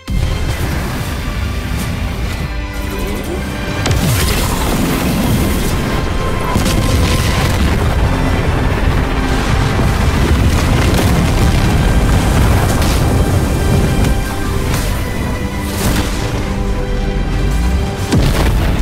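The strongest attack in the Roblox-style game Sakura Stands slams into a flower shield, a loud, dense barrage of booming explosive impacts and bursts that roars continuously for many seconds without letup.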